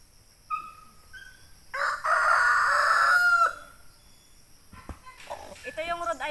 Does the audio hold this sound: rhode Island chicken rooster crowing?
yes